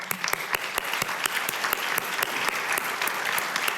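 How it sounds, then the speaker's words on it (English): A conference audience applauds steadily at an academic lecture, with distinct individual claps punctuating a continuous wash of clapping throughout. "Give them a round of applause."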